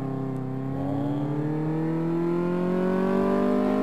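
A car engine in the video game Car Mechanic Simulator 2014 drones and revs steadily upward in pitch, a smooth continuous whine with no voices over it.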